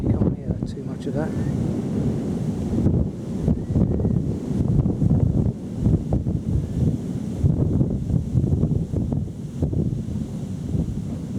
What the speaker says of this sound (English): Wind's picking up now.